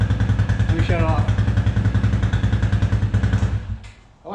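A 2004 Suzuki LTZ250 ATV engine idles loudly close by with a steady, throbbing single-cylinder pulse, then is switched off and quickly dies away near the end. A voice talks over the running engine.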